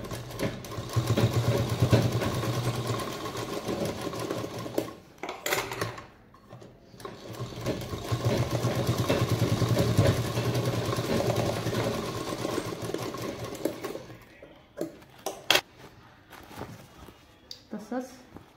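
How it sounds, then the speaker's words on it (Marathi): A sewing machine stitches the seam of a handmade purse with a steady mechanical whir in long runs, pausing briefly around the middle and breaking into short bursts near the end, while someone talks over it. "आता इथून आता शिलाई मारायची"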